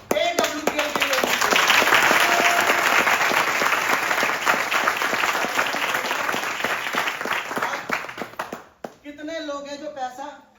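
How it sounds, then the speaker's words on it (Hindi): A large audience at a company event for AWPL breaks into loud, sustained applause lasting about eight seconds, then fades as a voice begins speaking. "एक बार अभी तक की सबसे जोरदार तालियां हमारे कंपनी AWPL के लिए"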